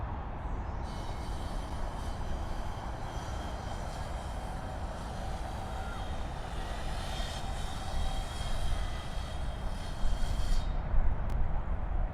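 An airliner lands at Sydney Airport with a loud, steady broadband engine roar and whine that rises slightly toward the end, heard alone without voices.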